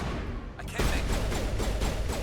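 Gunfire in the video game Mass Effect Legendary Edition, a sharp burst after a brief lull followed by a rapid run of loud shots and impacts through the rest of the moment.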